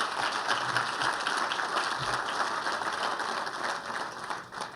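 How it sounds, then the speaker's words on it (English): A crowd at a Norton Hospital community event applauds steadily for several seconds, a dense wash of clapping with no voices on top. "let's clap for that"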